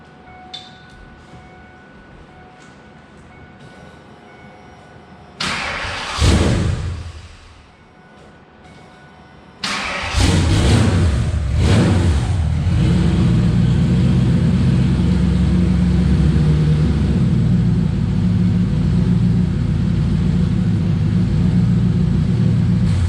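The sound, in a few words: Saleen car engine starting and revving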